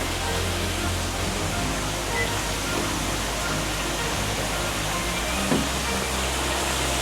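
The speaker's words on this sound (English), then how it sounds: "And look here with all the waterfalls and everything." Steady rushing water from a backyard pool waterfall, a continuous even wash of splashing that stays constant and close throughout, with no voices.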